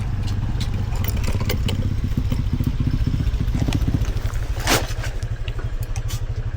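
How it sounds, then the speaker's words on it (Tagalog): A motorcycle rolls in through the gate of a fenced farm, its engine running at a steady, close, mid-pitched idle throughout. "Malaki yung ating pinakagito, pasok yung motor."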